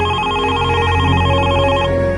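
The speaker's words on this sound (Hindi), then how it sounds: "ये सब फोन किसका आ गया?" A telephone rings loudly and continuously with a steady electronic tone, close and alone with no talk over it.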